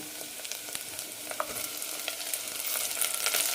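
Onions and tomato frying in a pan for a drumstick kurma, a soft, steady sizzle with light crackles and occasional stirring, rising slightly toward the end.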